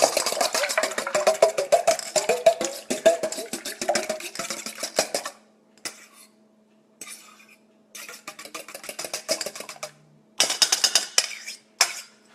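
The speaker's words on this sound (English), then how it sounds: "let me get a little fork here. Gotta mix that up real good." A small fork scrapes and clinks against a dish while mixing food in a home kitchen, with steady dense stirring at first, then sparse bursts of scraping separated by quiet pauses, heard close up.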